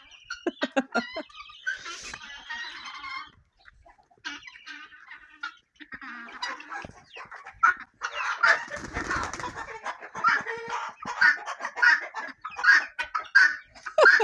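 A rooster is carried on a winter morning, clucking and squawking in agitated bursts amid rustling and flapping, close by and uneven in rhythm.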